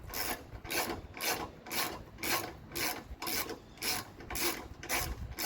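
A ratchet wrench removes bolts while a Curt hidden hitch goes onto a Volvo S60, giving about nine evenly spaced, scratchy clicking strokes in a steady back-and-forth rhythm, close but fairly quiet.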